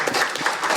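Brief burst of audience applause welcoming a union branch leader to the podium at a forum on broadcasting, moderately loud and steady for under a second.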